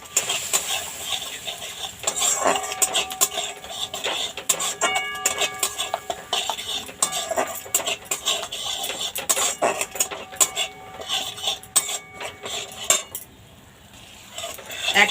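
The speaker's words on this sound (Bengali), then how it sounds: "এক মিনিট মতো সর্ষেটা নেড়ে চেড়ে নিয়েছি" Mustard paste for a tangra fish curry is stirred in a pan, with dense rapid metallic scraping and clinking of a spoon against the pan running nearly throughout, close and busy, then briefly easing near the end.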